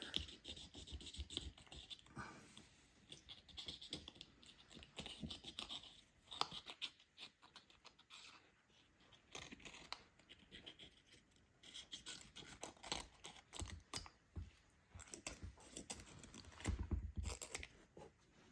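A ball python egg is sliced open with a small blade, giving faint, close, irregular scratching and snipping of leathery shell in short bursts with no talk.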